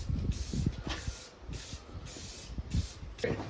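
Spray paint sprayed in a garage with the door open, heard as a series of short, close hissing bursts of varying length, several in quick succession, with light handling knocks underneath.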